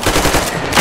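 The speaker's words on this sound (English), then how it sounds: "I think they'll notice when I start shooting." Rapid automatic gunfire in the video game Metro Exodus, a loud dense burst of shots lasting under a second, close and alone.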